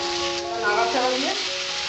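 Boiled bottle gourd and prawns fry in a pan for a Bengali curry, giving a steady close sizzle as they are stirred around, with some faint tonal background sound.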